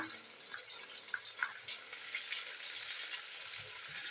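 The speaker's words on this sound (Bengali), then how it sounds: "উচ্ছেটা আমি ভালো করে ভেজে নেবো" Bitter gourd frying with salt in a pan, a quiet steady sizzle with occasional faint pops and light stirring ticks.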